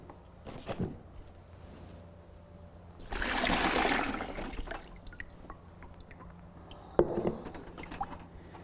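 Water sloshes and trickles as the vase water is poured off the ranunculus and fresh water is run in. A burst of pouring is followed by drips and small splashes, close by, with no voices.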